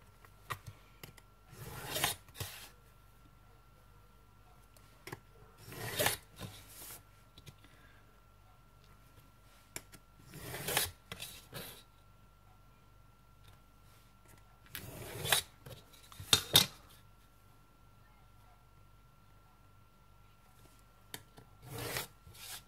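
Paper is folded and creased for an embellishment box in several separate bursts of dry rubbing and scraping, close but quiet, with long silent gaps between them.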